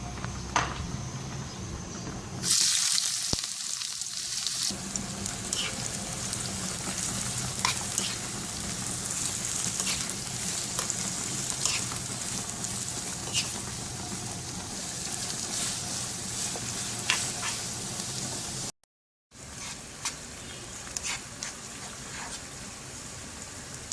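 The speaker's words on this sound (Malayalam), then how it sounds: "നെയ്യ് ചൂടായി കഴിഞ്ഞു നമുക്കിതിലേക്ക് വറുക്കാനുള്ള സവാള ചേർക്കാം" Sliced onions frying in hot ghee in a pan for squid biryani, a dense, continuous sizzle with crackling spatter that holds steady for most of the clip, broken by a brief quiet gap near the start and a short dropout near the end.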